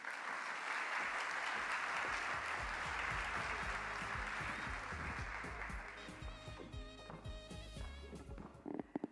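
An audience at the Caribbean Investment Forum 2025 opening ceremony in Jamaica applauds after a speech, steady full clapping that fades near the end as music with a low beat comes up underneath.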